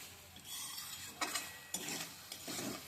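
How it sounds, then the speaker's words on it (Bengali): Pasta being stirred in a pan on the stove, with soft scraping and clinking of a spoon in a few distinct strokes over a low background hiss, no talking. "এভাবে একটু নেড়ে রান্না করে নিচ্ছি।"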